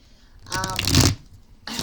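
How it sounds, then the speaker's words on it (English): Oracle divination cards riffled and shuffled by hand, a close, crisp fluttering burst lasting about a second, then a brief restart of shuffling at the end. "While I'm shuffling these cards up"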